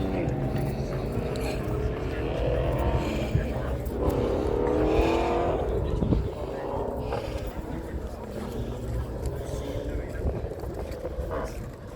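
A Jensen car idles and rumbles close by at Goodwood, a steady low engine drone under excited conversation and background crowd noise.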